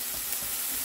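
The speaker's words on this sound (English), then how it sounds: "Got my onions cooking down." Onions cooking down in a pan for vegan nachos give a steady, close sizzle with faint hissing and crackle and no talk over it.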